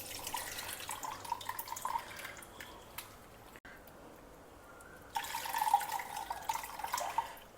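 Soaked tamarind is squeezed by hand in water to draw out its extract, producing soft, close squelching with drips and trickles, fading to near quiet partway through before the wet sloshing resumes.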